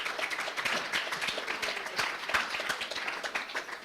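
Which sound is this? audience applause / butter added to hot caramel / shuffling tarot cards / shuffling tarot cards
audience applause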